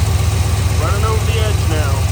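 A Studebaker engine idles with its AC compressor belt turning, giving a loud, steady low throb with a faint voice murmuring briefly over it.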